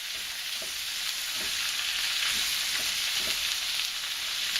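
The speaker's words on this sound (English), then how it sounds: "We want to stir fry this" Cabbage with bacon stir-frying over high heat in very hot oil, a steady loud sizzle with soft periodic stirring thumps, no voices.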